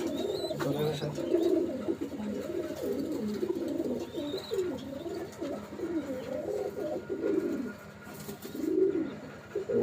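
Imported Pakistani Teddy pigeons in a loft keep up a continuous low cooing, overlapping rolling calls from several birds against a faint background hum.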